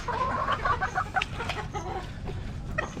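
Chickens clucking and squawking close by as they are given feed, several birds calling over one another in a busy, continuous farmyard chatter.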